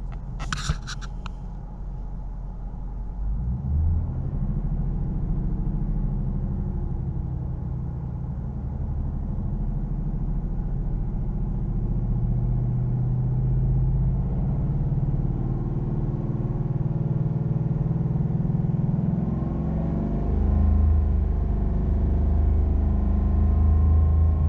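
A 2019 Ford Mustang GT V8 idles with a deep, steady rumble close by, its pitch shifting slightly as the revs change, after a short clicking at the start; nobody speaks.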